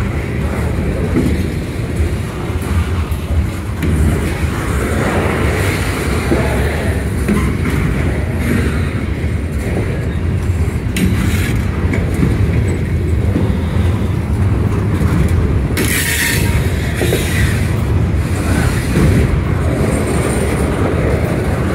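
A long Conrail freight train loaded with coil cars rolls past slowly after a stop, a steady, loud rumble of wheels and cars that holds throughout with no voices.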